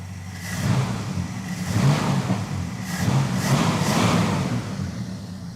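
Dodge Charger engine revving after earlier misfiring, two or three rising and falling throttle swells with a rough, low rumble, close and fairly loud with no talk.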